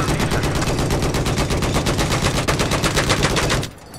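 Loud, continuous automatic machine gun fire in the video game Battlefield 4 rattles as a dense, rapid stream of shots for nearly four seconds, then cuts off abruptly.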